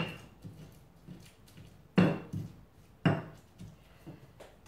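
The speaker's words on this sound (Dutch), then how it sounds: "Even alles door elkaar mengen." Chicken fillet being mixed with a marinade of ground kemiri nuts for soto ayam, with two loud, close knocks of a utensil against the bowl amid softer scraping and shuffling.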